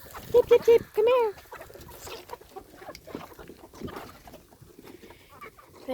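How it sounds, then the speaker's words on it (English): Chickens clucking and squawking at feeding time on a farm, a few loud bursts early on, then busy, scattered clucks under a person's voice calling to them. "let's feed the chickens and see how crazy they get."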